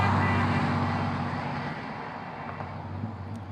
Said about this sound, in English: Excuse the noise, we're like sat at the side of the road currently.